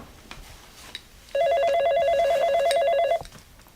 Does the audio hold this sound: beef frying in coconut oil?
no